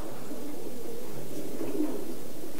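Racing pigeons cooing in a loft, a soft continuous low murmur of overlapping coos at moderate distance with no talk.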